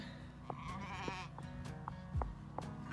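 Sheep bleat several times in quick succession, fairly close, with wavering calls over a steady background of farm noise.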